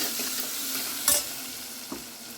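Cut vegetables with curry leaves and mint fry in a pan, a continuous hiss broken by one bright spatula scrape and a softer knock.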